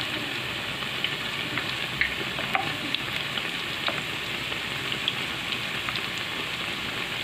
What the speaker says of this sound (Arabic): وهوريكم انا بقليها بقى